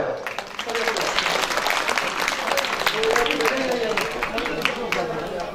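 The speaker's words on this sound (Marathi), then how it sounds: "या तीनही मान्यवरांसाठी जोरदार टाळ्या." Strong applause for three dignitaries at a retirement felicitation ceremony in a Maharashtra school, steady dense clapping from a crowd lasting throughout, with voices talking over it.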